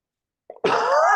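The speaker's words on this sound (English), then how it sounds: "Hold on, I got to sneeze." A single sharp sneeze or cough bursts out after a brief intake of breath from a person with a head cold, close and loud, ending the clip.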